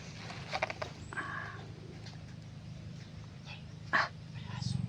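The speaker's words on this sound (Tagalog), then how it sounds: "May aso daw yung bahay ni Jan Tol." A dog barks a few times at moderate distance, with faint voices and background noise around the barks.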